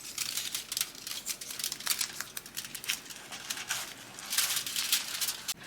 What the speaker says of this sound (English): I'm going to add some of the blue tape I saved.